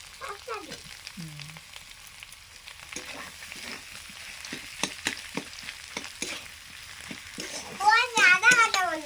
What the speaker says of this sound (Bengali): এবারে আলু দিয়ে দিচ্ছি সেদ্ধ করা আলু